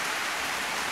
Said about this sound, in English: It is pouring rain right now.